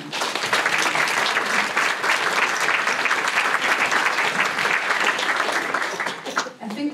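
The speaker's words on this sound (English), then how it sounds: "And maybe you all want to give him a big clap of hands." Audience at the opening of the D&C Days 2017 gives a sustained, dense round of applause for the event's founder, steady and loud throughout before thinning at the very end.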